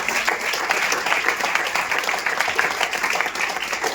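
An audience at a church youth meeting breaks into steady, dense applause, loud and sustained, with faint voices mixed in.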